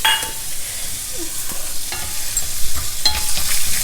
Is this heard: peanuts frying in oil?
yes